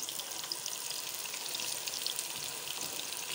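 Onions frying in a generous amount of oil for Egyptian koshari give a steady, close crackling sizzle with fine popping throughout and no talk over it.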